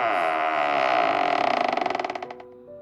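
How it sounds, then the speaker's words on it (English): A bakery door creaks open in one long, loud groan that slows into a stuttering ratchet of separate clicks as it swings, close and alone. "The sound of the door opening made me smile happily"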